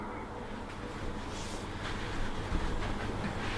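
A Rapido 15xx pannier tank OO gauge model locomotive with DCC sound gives a steady, even chuff, rumbling beneath a hissing wash of noise, with soft beats that strengthen toward the end.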